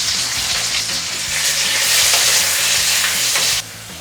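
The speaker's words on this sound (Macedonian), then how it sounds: "ќе го ставиме во загреаната тава" Pieces of steak frying in a heated pan, a loud, close, continuous sizzle with stirring, the crackle swelling midway before dropping off abruptly near the end.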